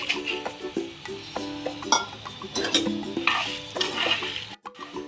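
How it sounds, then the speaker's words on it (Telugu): Coriander seeds frying in a couple of spoons of oil in a pan for curry leaf chutney, with a soft steady sizzle, stirring scrapes and light metallic clinks of a spoon against the pan, close by, no talking. "ఒక 2 స్పూన్స్ ఆయిల్ వేద్దాం. ధనియాలు వేసి వేయించుకుందాం."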